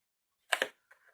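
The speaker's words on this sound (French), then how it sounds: "Qu'est-ce qu'ils ont, mes ciseaux? Ils se mettent à couper mal." Two crisp snips of scissors cutting paper, the blades sticking and slightly gummy, followed by a softer, fainter slicing scrape while trimming a cardboard craft box, close and alone.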